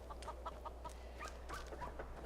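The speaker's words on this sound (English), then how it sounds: "it's a chicken." A chicken clucking in Skyrim, soft quick clucks and short chirps in a loose rhythm, faint and somewhat distant over a steady low hum.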